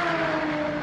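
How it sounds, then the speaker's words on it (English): The Aston Martin V12 Vantage GT race car engine at Phillip Island qualifying, a loud, steady high-pitched drone heard briefly as the car runs by. "That's the Mike Bailey Aston Martin, the V12 Vantage car"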